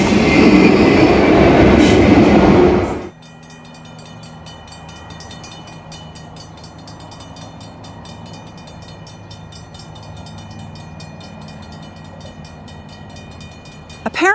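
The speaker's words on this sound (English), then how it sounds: "Oh, here comes another train." Goods train passing through the small country station at Traveston, Queensland: a loud burst of rumble for about three seconds, then a steady quieter rolling drone of wagons with metallic ringing tones, picking up again at the end.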